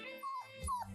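A dog whimpers in a scene from the series Daredevil: Born Again, giving two thin, high whines with a low rumble between them. Both cries are brief and sit over a muffled background.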